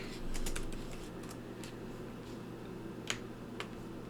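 Someone types on a computer keyboard, producing a few quiet, scattered key clicks against a low background hum, with no talk.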